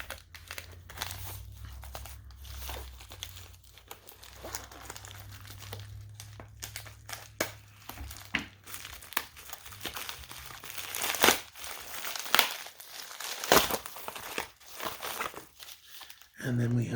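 Plastic packaging around a video game crinkles and crackles in close, irregular bursts as it is handled, growing louder and busier toward the end, with a soft voice talking at times.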